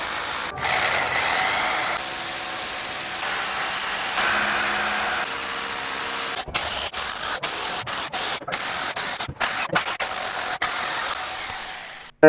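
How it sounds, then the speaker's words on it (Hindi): A hammer drill bores holes into a wall for a wardrobe, a steady loud grinding whir for several seconds, then a run of short bursts separated by abrupt stops. "अब इसमें हैमर की मदद से सुराख कर लेंगे सारे।"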